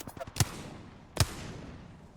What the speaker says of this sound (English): I don't know if she's just shooting wildly and hoping to hit something.